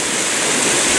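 Mountain water rushing down a rocky gully above a sawmill, a steady, loud, broadband roar of close-by cascading flow with no pauses or voices.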